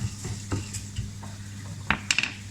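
Seeds heating in a pan are stirred, giving scattered soft scrapes and light metallic clicks over a low steady hum, with a brighter cluster of clinks near the end and no voices.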